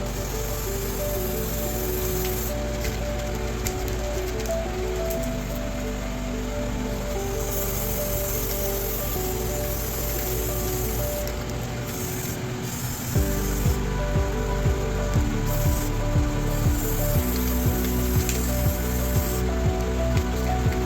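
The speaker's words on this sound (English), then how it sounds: "I'm using brake cleaner to clean my parts." Brake cleaner sprayed onto CVT transmission parts of a 2017 Nissan Pathfinder, a loud continuous hissing spray with shifting bursts and rattles, no talking.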